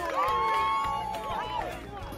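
A packed baseball stadium crowd stands during a tense Game 4, a steady roar of cheering washing over a play-by-play voice for about two seconds.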